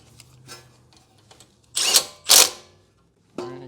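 Short power-tool bursts while tightening the shock absorber bolts on a Honda Element during front and rear shock replacement: two loud close whirring runs in quick succession, a third starting at the end, with faint clicks between.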